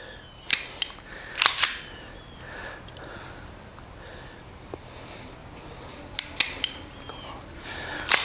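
Sharp dry-fire trigger clicks from a firearm during training drills, a few isolated snaps and paired clicks spaced out over quiet room tone, close and fairly crisp.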